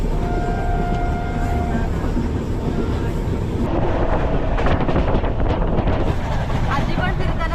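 Inside a general compartment of a passenger train running from Mumbai toward Konkan near Mangaon station, a steady, loud rumble of wheels and carriage rattle fills the space, with rhythmic clatter swelling in the second half.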